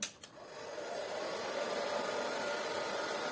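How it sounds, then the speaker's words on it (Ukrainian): A hair dryer switches on with a click and then blows steadily with a constant whooshing whine, close by. "В якості навантаження використовуватиму ось цей фен. Вмикаємо його."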